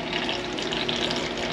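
Water runs steadily from a kitchen tap as someone fills a container, a continuous loud hissing rush close by with no pauses.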